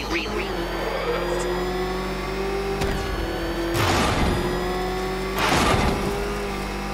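The Batmobile in Batman Arkham Knight, its engine droning steadily and then surging into two loud revving bursts, mixed with game audio.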